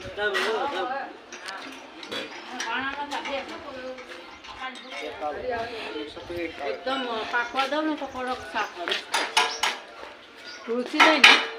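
Metal pots and utensils clank and jingle as they are carried along, a steady rattle of clinks that builds toward the end, with people talking over the clatter.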